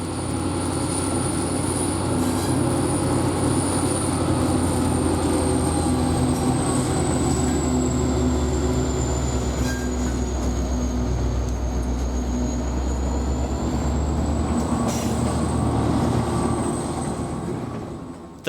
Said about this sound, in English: the Limon to Salina freight train, as it begins its long, grueling journey across the high plains